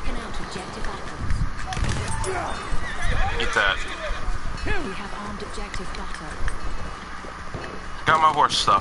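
Video game horse: a loud whinny and rapid galloping hoofbeats amid busy game noise, with people talking throughout.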